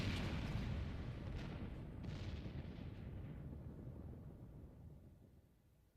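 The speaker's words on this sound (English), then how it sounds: "The main tower just collapsed. You heard it too, didn't you? It must have been the cannon at Castrum Albania." Rumbling collapse of a main tower after cannon fire in the Final Fantasy XIV game, a loud sustained crashing roar with debris that slowly fades over several seconds, with no voices.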